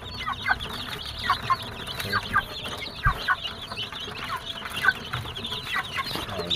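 Free-range village chickens in a small backyard coop cluck in repeated short bursts close to the microphone, a busy irregular chatter with no talking.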